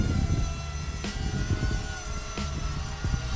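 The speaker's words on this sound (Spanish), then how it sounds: "Pero es un dron estable." A Skytech M71 quadcopter drone hovers nearby with a loud, steady high-pitched propeller whine and buzzing motor tones, plus a few brief wind gusts or bumps, no voices.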